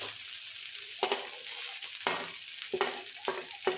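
Mashed potato filling with coriander for aloo paratha is stirred in a pan, with repeated scraping strokes at an uneven rhythm over a faint, steady sizzle, close and fairly quiet.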